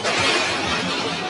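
Car crash in a dramatized scene after the vehicle spins out, a loud, dense burst of smashing and shattering glass filling the whole moment.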